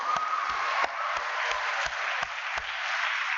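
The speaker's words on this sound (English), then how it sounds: "I request and I want all the graduates to clap for each other for your success." Graduates clap together at a graduation ceremony, a dense, steady wash of many hands with a few sharper claps standing out, filling the room without pause.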